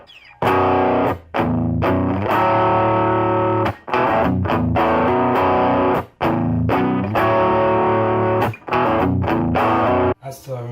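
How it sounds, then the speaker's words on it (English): Gibson SG electric guitar played with distortion, strumming loud chugging power chords in rhythmic bursts separated by short pauses. "being able to have a good dirt setting that can play more complex, still have the nice pushed sound with the power chords"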